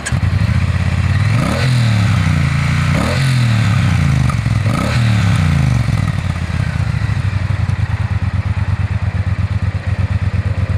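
A Triumph Bonneville twin-cylinder motorcycle engine runs loud and close, with several swelling revs early on before settling into a rapid, even idle pulse.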